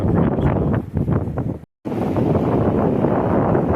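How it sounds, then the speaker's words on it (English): Strong wind in the woods roars and buffets the microphone in loud, rough gusts, cutting out briefly for a moment before the blustery rumble resumes. "It's getting really windy though."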